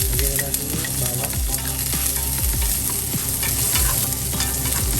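Pork steak frying with garlic in a pan, a loud dense sizzle with popping crackles and repeated stirring scrapes, close and continuous, no talking.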